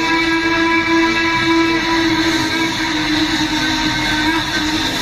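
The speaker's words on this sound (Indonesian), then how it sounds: "Ada kereta api." A train rumbles past close by, a loud, steady roar with sustained tonal whine over heavy low-frequency rolling noise throughout.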